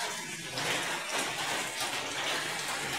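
Continuous monsoon rain falls without letup, a steady dense hiss that stays even and fairly close, with no voices heard.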